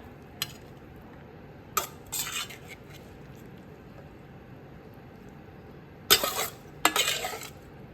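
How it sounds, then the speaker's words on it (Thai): Stir-fried crispy pork with chili and ginger is scooped onto a plate: a few sharp scrapes and clinks of a utensil against pan and dish, separated by quiet pauses over a faint background sizzle. "ตักใส่จานให้สวยงามนะคะ"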